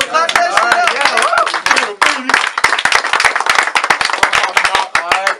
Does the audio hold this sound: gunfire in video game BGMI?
no